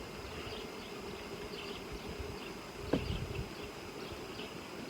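Honeybees buzz in a low, steady hum around a small hive nucleus, a thin colony with few bees, heard outdoors with a brief knock near the middle.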